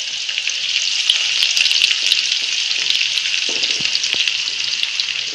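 Garlic frying in hot oil for a Marathi-style khamang chivda, a steady, dense sizzle that holds evenly close-up throughout with no voices.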